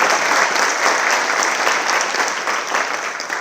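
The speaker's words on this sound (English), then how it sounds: "Let's give a big round of applause for Jenny, ladies and gentlemen." Loud, sustained applause from a large audience at a student award ceremony, dense and even throughout with no voices standing out.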